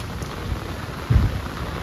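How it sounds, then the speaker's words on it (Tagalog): Steady rain falls, a constant hiss of drops on surfaces, with a low rumble of thunder swelling briefly partway through. "nag-umpisa na yung ulan talaga."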